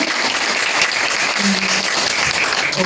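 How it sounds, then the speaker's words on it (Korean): A crowd applauding, a dense steady patter of many hands clapping throughout, fairly loud and close. "여러분께 박수를 드리겠습니다"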